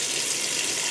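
Kohler Pro-Inspired kitchen sink faucet running water into the basin, a steady broadband hiss of flow held at an even level throughout with no voices.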